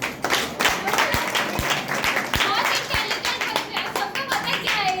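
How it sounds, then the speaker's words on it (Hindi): A group claps enthusiastically, with distinct sharp hand claps standing out in a steady burst of applause close by. "उनके लिए तालियां हो जाए"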